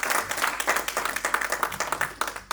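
Church congregation at a Sunday service applauding together, a continuous round of many hands clapping at close range, fairly loud and sustained before fading at the end.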